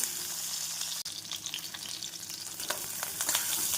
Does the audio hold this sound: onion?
yes